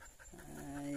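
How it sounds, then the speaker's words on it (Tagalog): A Belgian Malinois pants rapidly and close by during a steep hike, with quick rhythmic breaths ending in a brief whimpering tone. "Ito ang aking kasamang aso, si Kali."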